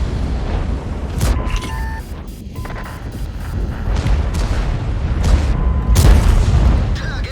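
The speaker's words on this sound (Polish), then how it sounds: "strzelanie z górki, wykorzystujemy celność leoparda" Leopard tank cannon shots in the video game World of Tanks: several heavy booms land at irregular intervals over a continuous rumbling engine and mechanical clatter, loud and close.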